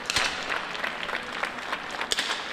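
Crowd applause at a national smallbore rifle championship final, a steady patter of clapping hands from an indoor audience, fairly loud and continuous with a few sharper claps standing out.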